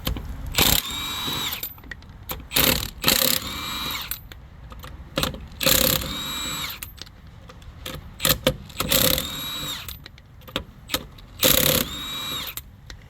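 Impact wrench fitted with a 21 mm socket removing a wheel from a 2016 Kia Sorento, firing in a series of sharp, loud rattling bursts separated by short pauses.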